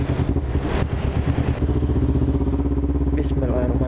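A motorcycle engine idles while warming up, a steady low throbbing rumble throughout, close and loud, with a few brief clattering sounds near the start.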